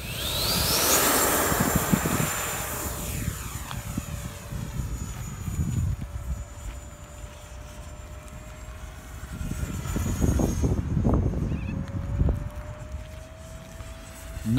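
An FMS Yak radio-controlled model airplane flies in strong, gusty wind of about 30 km/h, its engine whine rising and falling as it passes, with heavy wind buffeting throughout.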